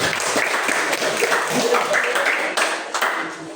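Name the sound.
audience applause at graduation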